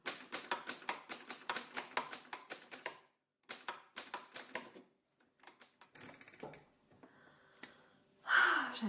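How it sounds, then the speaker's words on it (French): A vintage typewriter clacks out close, crisp keystrokes in rapid bursts separated by short pauses, followed by softer mechanical shuffles and a final sliding, ratcheting carriage sound. "Depuis le temps que j'en voulais une machine à écrire comme ça."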